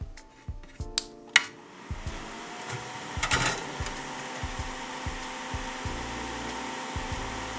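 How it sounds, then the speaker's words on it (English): A homemade soldering fume extractor hood runs with a soft, steady fan hum at low level, broken by scattered clicks and brief knocks. "I'm gonna show how I built this soldering fume extractor hood."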